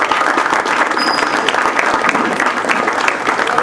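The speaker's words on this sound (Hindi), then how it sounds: "तालियां उनके लिए।" A theatre audience applauds steadily and loudly throughout, dense clapping with a few cheers mixed in.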